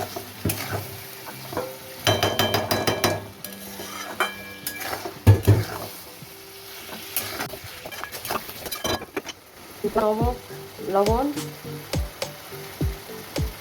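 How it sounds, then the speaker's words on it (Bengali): Cauliflower is stir-fried in a pot with a little water: scraping and clanking of a spatula against the pan in bursts over a steady sizzle, with brief indistinct sounds in between. "সামান্য জল দিয়ে ভালো করে কষাতে হবে"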